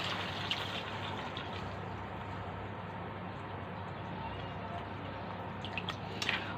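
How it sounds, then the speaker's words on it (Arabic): Chicken broth poured into a cooking pot of native chicken and mixed vegetables, a steady close liquid pour with a soft continuous splashing wash throughout. "هنزود شويه الشوربه اهو"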